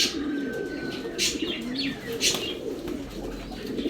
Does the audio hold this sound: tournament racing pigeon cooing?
yes